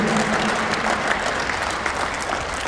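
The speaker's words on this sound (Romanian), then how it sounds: "Mai aplaudăm" Steady applause fills an awards gala for a Dacia car rally cup series as drivers are named on stage, a dense, even wash of clapping throughout with no pauses.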